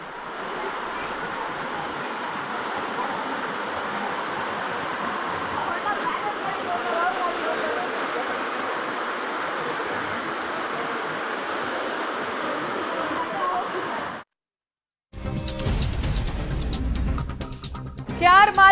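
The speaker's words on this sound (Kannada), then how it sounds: "ಮಂಡಿಯುದ್ದ ಮಳೆ ನೀರು ಹರಿತಾ ಇದೆ" Heavy-rain floodwater rushes across a flooded Bengaluru road near a tech park flyover as a dense, steady roar, then cuts out briefly before a different, noisier passage resumes near the end.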